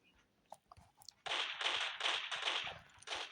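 Rapid pistol gunfire in a multiplayer shooter game: a few faint clicks first, then a burst of loud, closely spaced shots in quick succession, several distinct cracks over about two seconds.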